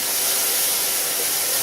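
Vegetables sweat in a soup pot, giving a steady, even sizzling hiss close by with no talking over it.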